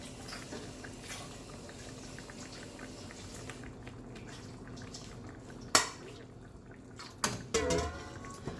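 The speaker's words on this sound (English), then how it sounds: "Just gonna put some water in this thing right here." Water is poured into a pot of Jamaican oxtail on the stove, with a low bubbling simmer and clattering pot noises. A couple of sharp clanks and a short splashing burst stand out near the end.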